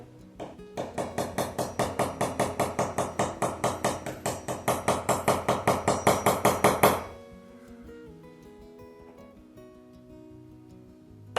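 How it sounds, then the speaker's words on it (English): Masonry drill in hammer action boring into tile in a kitchen, a rapid run of evenly spaced sharp percussive pulses close by for about seven seconds, then it stops and faint background sounds remain. "masonry drill."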